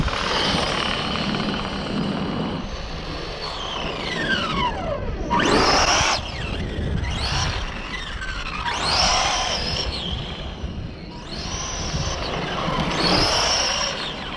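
A brushed electric vintage Arrma RC car drives past repeatedly, its motor whine rising and falling in pitch with each close pass, loud and continuous with no talking.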